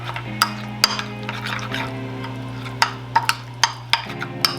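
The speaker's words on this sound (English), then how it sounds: "3 tablespoons of oil. Mix that together." Spoon stirring a tofu marinade mixed with oil in a bowl, giving a soft swishing over a steady hum, punctuated by several sharp clinks against the bowl.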